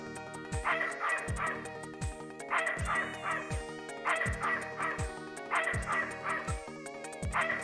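A dog in the video game Snatcher whimpers and yips in a repeated pattern of short, high, nasal cries, about five bursts over a steady electronic game-music backdrop with low rhythmic thumps.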